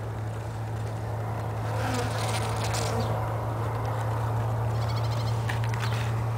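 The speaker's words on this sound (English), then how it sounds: "the bees are pollinating for us" Bees buzz steadily around blooming Trichocereus terscheckii cactus flowers outdoors, a close continuous drone with individual insects swelling louder as they pass near, over a constant low hum.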